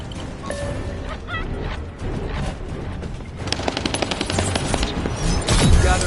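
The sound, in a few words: assault turret firing in the video game The First Descendant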